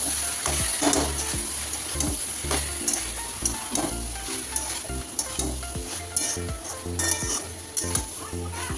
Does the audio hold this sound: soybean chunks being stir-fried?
yes